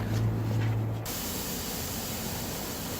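Paint spray gun fed by a compressor turned down to very low pressure, a soft steady hiss with a low tonal hum in the first second, then a flat even airy spray continuing alone.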